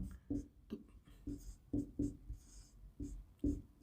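Handwriting strokes, likely pen on paper, scratch in a steady series of short bursts, close and fairly quiet, with no talk.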